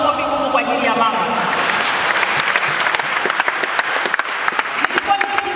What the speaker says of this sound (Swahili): naomba tumpigie makofi Mungu kwa ajili ya mama